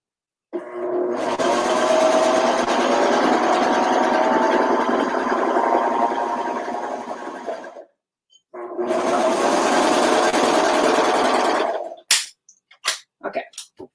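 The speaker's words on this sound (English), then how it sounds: "I'm just going to serge that into the shoulder seam to help it stabilize" A serger stitches a seam into a t-shirt shoulder, giving a steady, loud mechanical whir that runs for several seconds, stops briefly and starts again, followed by a few sharp clicks.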